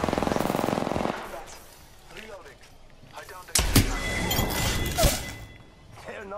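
Rapid automatic gunfire rattles in a video game battle, a fast burst at the start followed by scattered louder shots and impacts, with game sounds and talking mixed in.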